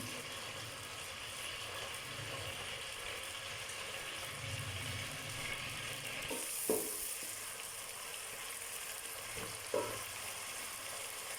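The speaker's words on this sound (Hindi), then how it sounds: "अभी इसमें मैं प्याज डालूँगी और हल्का ब्राउन होने तक पकाऊँगी।" Steady sizzling of onion frying in a pan, a continuous crackling hiss with a couple of brief clinks or stirring knocks near the end.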